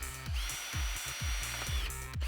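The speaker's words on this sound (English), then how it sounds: "I want to see if I've drilled enough" A power drill bores holes into a recycled planter: one steady high-pitched whir with a repeated knocking rhythm underneath, close and clear, lasting about two seconds before cutting off.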